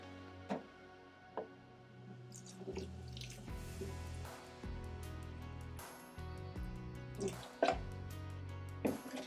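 Water is poured into a house plant's reservoir with faint trickling and splashing, punctuated by a few sharp clinks and knocks as the container is handled.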